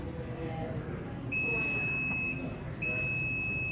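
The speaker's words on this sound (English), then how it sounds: "hold the button until it beeps" A high electronic beep from a Nissan Pathfinder power tailgate, confirming a set height, sounds twice, the first about a second long and the second longer, clear above low background noise and faint voices.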